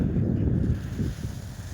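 A light breeze blows beside the Dniester river on a fishing outing, making a steady, low buffeting rumble across the microphone with no voices.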